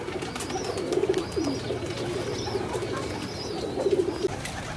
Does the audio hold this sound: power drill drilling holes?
no